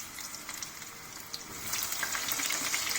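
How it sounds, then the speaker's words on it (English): Brinjals deep fry in smoking-hot oil, a dense, continuous crackling sizzle close by that swells louder toward the end. "The oil is ready. You can see the smoke coming up, and you have to deep fry"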